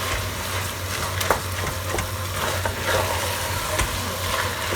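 Khoya (mawa) being stirred and mashed into carrot halwa in a pan of hot ghee, giving a steady close sizzle with scattered soft scraping taps of the spoon throughout, no talking.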